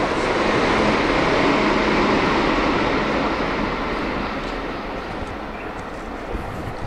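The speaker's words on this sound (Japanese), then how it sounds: "電車です。" A train passes near the bamboo grove path in Arashiyama, Kyoto, as a loud, continuous broadband rumble that slowly fades toward the end.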